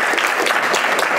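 An audience at a prototyping and entrepreneurship panel applauds the panelists. The clapping is thick and sustained at close range and holds evenly throughout, with no talk over it.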